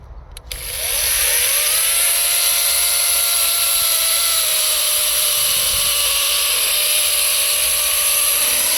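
A GTM CS18/127BL cordless chainsaw cutting wood in a forest: a brief click, then the motor spins up within about a second to a loud, steady high-pitched whine that holds without a break.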